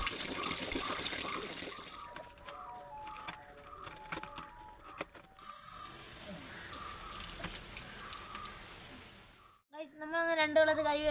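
Water gushes and pours onto compressed coir pith bricks, a steady wet flow that fades before a brief pause, with some talking over it.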